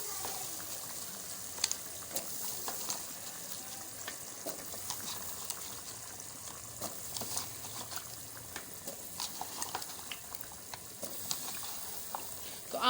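Water poured into a hot pan of frying onions and potatoes for aloo matar curry sets off a steady, crackling sizzle with scattered sharp pops, fairly quiet and close, lasting throughout.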